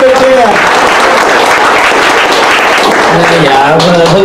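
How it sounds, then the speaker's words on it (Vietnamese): An audience at a charity show applauds a performer, with dense, sustained clapping and a voice talking over it. "một tràng pháo tay cho nghệ sĩ Phước bên kia."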